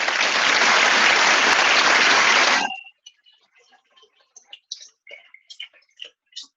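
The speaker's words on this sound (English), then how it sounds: "as you could hear, applause is international" A conference audience applauding, a loud, dense burst of clapping that stops abruptly and leaves a few scattered claps and clicks.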